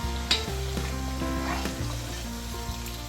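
Chicken pickle masala, about two kilograms of chicken with salt and chilli powder, sizzles loudly and continuously in a pot while being stirred, with occasional clinks and scrapes from the spoon over the constant frying hiss.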